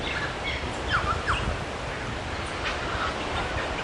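A noisy friarbird calling with a few sharp, clear notes rising out of a steady hiss of background noise, moderately near.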